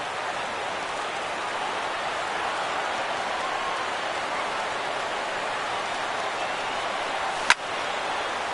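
A video game baseball stadium crowd of a bit over 30,000 rises to its feet on a PS4 game, a steady, unbroken roar of cheering that fills the whole stretch, with one sharp click near the end.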